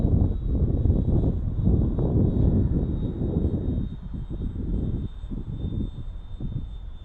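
An E-flite Spitfire RC model warbird drones overhead, its electric motor a steady, fairly loud whine that gradually fades a little as the plane moves away, with some wind buffeting and no talking.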